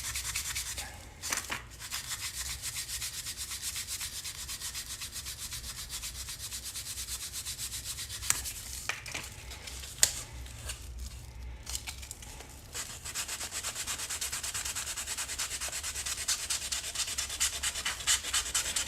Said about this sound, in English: sand some of this down. Get this one sanded down